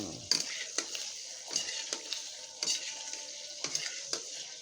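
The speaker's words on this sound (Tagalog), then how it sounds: "kailangan mo guys halu-haluin ang para hindi masunog" Longanisa sausage sizzles in oil in a pan while a utensil stirs and scrapes it, with rhythmic clinks and scrapes over a constant quiet frying hiss.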